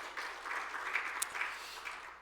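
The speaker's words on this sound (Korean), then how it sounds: "다시 한번 하나님께 큰 박수 영광을 돌립시다." A church congregation claps together, a soft, fairly distant patter of many hands that swells slightly and then fades over about two seconds.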